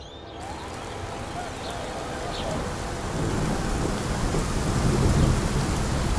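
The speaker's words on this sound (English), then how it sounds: "Just started spitting with rain, which is fairly annoying" Rain begins to fall in St Kilda, Melbourne, a dense hiss of drops on surfaces that grows gradually louder and fuller over the few seconds, with no talking.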